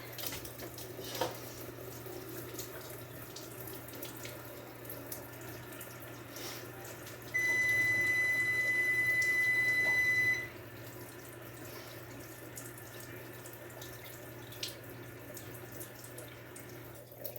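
Water from a kitchen tap rinsing drained food in a sink, a faint steady trickle running throughout, with a brief beeping tone partway through and a few soft clunks.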